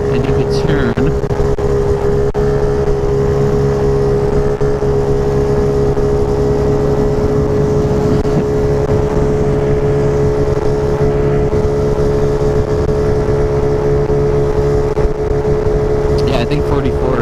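A small Honda motorbike, a Grom or Ruckus, ridden at around its 45 mph top speed, its engine holding a steady, loud drone with wind rush throughout.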